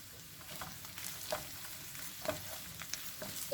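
Ground beef, onions, chopped green peppers and garlic sautéing in a pan, a soft continuous sizzle with light scraping and stirring, quiet and without talk.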